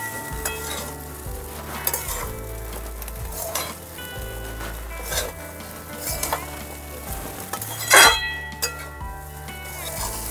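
Flattened rice (chira) and green peas stirred in a hot pan: repeated scraping strokes over a continuous sizzle, with a sharp clink of utensil on the pan near the end and no talking.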